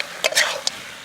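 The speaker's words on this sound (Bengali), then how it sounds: "আমাদের মাংস প্রায় কষানো হয়ে গেছে" Mutton stir-fried in a pan while being cooked down for a curry: a few short scraping, sizzling bursts of the spatula over a faint steady hiss, fairly close.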